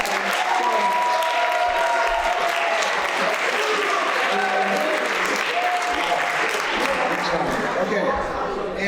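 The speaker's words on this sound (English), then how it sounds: "applause for all of our storytellers." A school audience at a story slam claps for its storytellers, a dense, steady round of applause that carries on for the whole stretch with some crowd noise mixed in.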